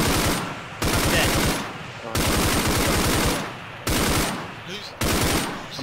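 Video game gunfire aimed at a strider, in bursts of rapid automatic fire that stop and restart several times, loud and close, with faint voices in the background.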